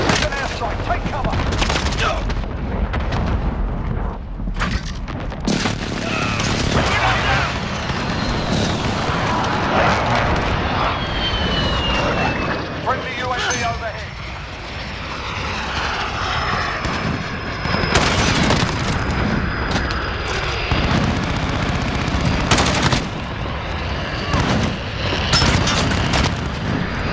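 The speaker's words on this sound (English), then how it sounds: "An airstrike, take cover!" An airstrike rages in Call of Duty: Modern Warfare, with roaring aircraft passes and repeated heavy explosions over continuous gunfire, dense and loud throughout with shouted voices mixed in.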